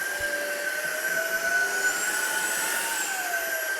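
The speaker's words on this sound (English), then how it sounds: "as it's working through a rug, it already went up on the strength by itself, and it's adjusting the strength as it goes through the debris" An Ozeeco cordless vacuum cleaner runs on auto mode across a rug, picking up debris. A continuous high motor whine with slowly shifting tones holds steady throughout, close and alone.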